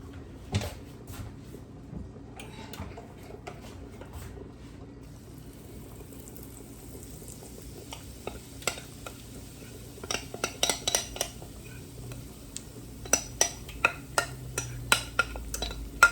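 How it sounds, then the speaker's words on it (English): A cast iron skillet is pulled out for cornbread in a home kitchen, with metallic clanks and scrapes of cookware and utensils that grow louder and more frequent toward the end, over a low steady background hum. "I'm going to go ahead and get the skillet out to put the cornbread in."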